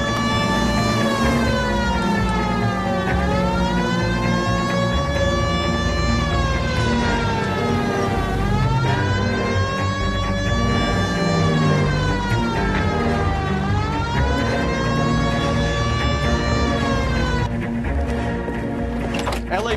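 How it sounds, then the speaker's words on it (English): In the LA Noire video game, a police car siren wails continuously in rising and falling cycles, loud and close, over the steady rumble of a car engine. "Hit the siren."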